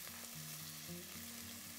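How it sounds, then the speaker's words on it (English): Onion sautés over medium heat in an oil and butter mixture for tomato soup, a steady, even sizzling hiss with a low tonal hum running underneath and no voices. "take our onion and add it to the oil and butter mixture that we have going here"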